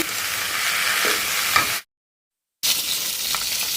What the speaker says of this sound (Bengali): মাছটা আর কি ভাজতেছি এখানে